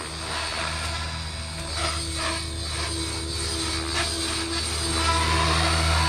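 An RC helicopter's tail rotor spins up on a Spektrum AR7210BX flybarless setup, a steady whirring mechanical drone with tonal hum that holds and slightly rises toward the end, no voices.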